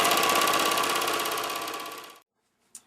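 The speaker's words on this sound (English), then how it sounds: "I'm going to stitch along the line with my gray thread" A sewing machine runs steadily, stitching gray thread over a patch on jeans, its rapid even needle rhythm loud and close for about two seconds before stopping, followed by a brief click.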